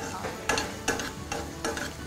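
Chopped onions fry in a pan with a close, steady sizzle, swelling in regular bursts about every half second as they are stirred and tossed, aiming for a light golden brown.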